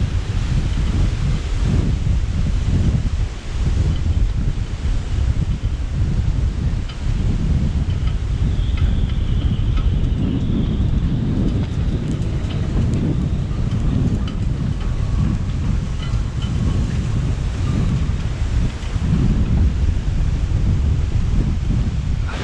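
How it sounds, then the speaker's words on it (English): Strong, relentless wind from Hurricane Fiona in Nova Scotia roars loudly and without pause, with gusts buffeting the microphone and a deep rumbling undertone, alone and without speech. "Still pretty windy."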